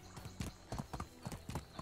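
Horse hooves clip-clop on the ground in the medieval survival game Medieval Dynasty, a steady run of close, moderately loud hoofbeats with no talking.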